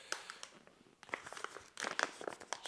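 A bag that held coffee beans is crinkled and rustled at close range in bursts of dry crackling over a few seconds, with a louder flurry near the end and no talk.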